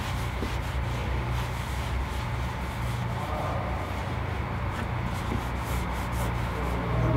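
A cloth rubs Turtle Wax Black in a Flash onto a car's exterior plastic trim in circular motions, making a steady, close, continuous scrubbing sound with no talking.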